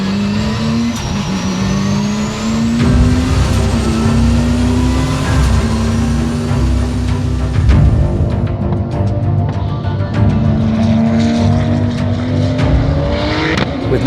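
The E-Motion race car drives hard during Pikes Peak testing, its engine whining up and down through repeated accelerations and gear changes, loud and close throughout with no talking.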